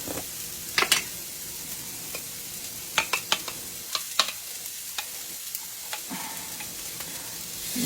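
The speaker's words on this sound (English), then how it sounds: "We're going to stir that just a tad." Onions sizzling in a frying pan as they soften and turn translucent, with a utensil scraping and clicking against the pan in a series of irregular stirring strokes over a steady soft fry.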